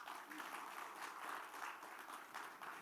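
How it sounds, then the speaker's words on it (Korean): A church congregation at an evening New Year revival service claps together, the applause soft and distant, a steady faint patter for a few seconds. "박수 한번 쳐줘요"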